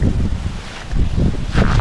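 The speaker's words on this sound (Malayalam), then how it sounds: "നല്ല കാറ്റ്" Gusty wind buffets the microphone in a low, continuous roar that swells and eases.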